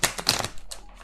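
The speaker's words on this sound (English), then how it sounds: "I can never shuffle this deck like perfectly." A Light Seers Tarot card deck being shuffled makes a quick, close burst of crisp papery riffling clicks, then a few softer flutters, with no talk.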